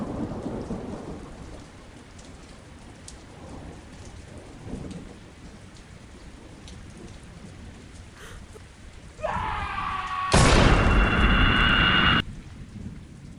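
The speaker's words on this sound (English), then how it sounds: "heavy rain suddenly began to fall" Heavy rain pours steadily on surfaces while thunder rumbles, building to a loud, sharp crack and sustained roll near the end over the constant downpour.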